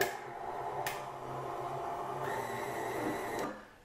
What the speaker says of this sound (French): je vais mélanger une toute dernière fois avec mon batteur plat